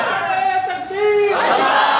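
A large crowd at a religious gathering roars a loud, unified chant in response to a preacher's call, sustained voices rising and swelling over about two seconds.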